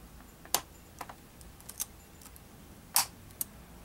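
Crisp, sharp clicks from a computer keyboard key being pressed back into place, about five separate snaps spread unevenly against a quiet background, with no talking.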